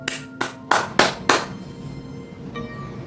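Five sharp hand claps ring out in an uneven sequence, close and distinct with a short reverberant tail on each, followed by quiet and a faint tone.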